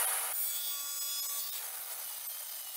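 A hand saw cuts through wood pieces at a 45-degree miter for a fish tank stand, giving a steady, close rasping stroke that runs continuously with no talk.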